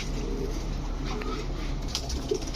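A pair of Giribaz high flyer pigeons coos quietly amid a busy background hum, with faint low cooing notes and a few distant clicks, no clear voices.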